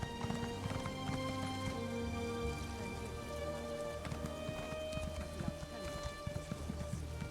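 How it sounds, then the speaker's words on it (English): A horse's hooves clip-clop at a steady trot in the video game ESO Morrowind, a quiet, even rhythm heard over a soft, continuous ambient hiss. "Oh look, my horse"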